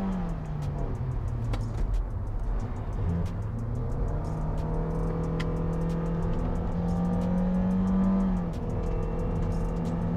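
A Toyota Vios GR-S with a 1.5-litre engine revs and pulls hard on a mountain road, its steady engine drone rising in pitch with acceleration and then holding high, loud and continuous throughout without speech.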